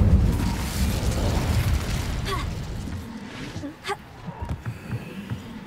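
Incendio, a fire spell in Hogwarts Legacy, gives a roaring, crackling gush that fades into a scatter of short pops and mechanical clicks.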